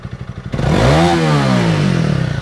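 Honda CRF300 Rally motorcycle on its stock exhaust, idling briefly and then snapping to full throttle for about a second, a loud close rev that rises and settles into a sustained high drone.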